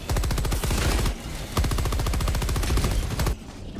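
Rapid gunfire from the Redeemer pistol in Helldivers 2, two fast bursts of sharp repeated shots with a brief pause between them, loud and close with no talking.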